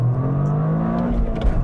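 A turbocharged engine in a 2023 Toyota GR Corolla Circuit Edition AWD hot hatch revs hard and steadily, its loud, rising drone continuous and close throughout, with no talking.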